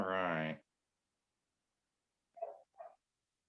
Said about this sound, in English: And if you hear any sounds, that's my dogs.